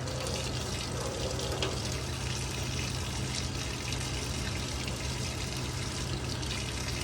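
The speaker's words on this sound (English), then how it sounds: "I've got warm water here, and I'm just gonna run my hands across this" Warm water runs steadily from a kitchen tap over tomatoes being peeled by hand, a continuous close splashing and trickling with a low hum underneath.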